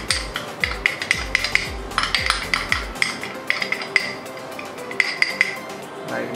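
Spoon clinking against a bowl while pancake batter with banana, flour and baking powder is mixed, a quick series of bright ringing taps, some fast and clustered, close by.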